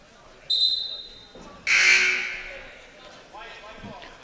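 A loud gym buzzer blares for about a second and fades, following a shorter tone, with faint crowd noise around it, at a high school boys' basketball game.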